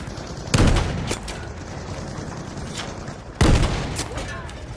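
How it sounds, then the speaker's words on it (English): Two sharp, loud blasts of a grenade explosion and gunfire in Battlefield V stand out over a quieter background of scattered shots and distant combat, with a few smaller cracks between them. "Grenade throw!"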